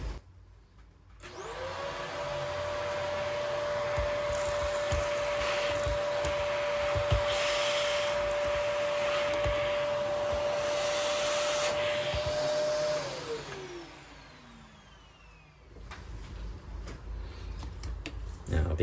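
A vacuum cleaner cleans out a Breville Smart Grinder Pro coffee grinder before its burr assembly is taken apart, giving a loud, steady whine that runs about twelve seconds, then winds down and cuts off.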